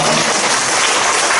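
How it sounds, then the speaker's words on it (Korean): A church congregation at Daejeon Saengsu Church bursts into steady, dense applause, close and loud for the whole short stretch with no break. "주님께 영광의 박수 드리겠습니다."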